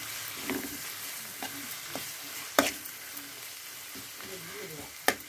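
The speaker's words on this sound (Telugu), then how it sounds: "ఇవి బాగా ఫ్రై అయిపోయాయి. ఇంకొంచెం కారం వేద్దాం, కొంచెం పసుపు. ఇది ఫ్రై చేసేసి" Tomato and spice masala with chili powder and turmeric fries in a pan for a brinjal curry, a quiet steady sizzle broken by a few sharp spoon clacks and stirring scrapes.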